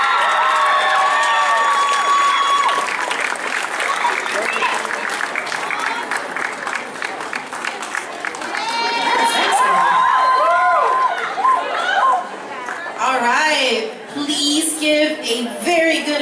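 An audience applauds and cheers the adult-division cosplay contestants at YumaCon 2016, loud sustained clapping with whoops, with an announcer talking over it.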